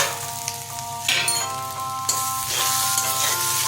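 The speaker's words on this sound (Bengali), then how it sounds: "এবার আলু আর বেগুন দুটোই একসাথে দিয়ে দেবো।" Potatoes and brinjal added to hot spiced oil with tempered seeds, sizzling loudly and steadily with bursts of crackling hiss and stirring, and a faint tonal hum in the background.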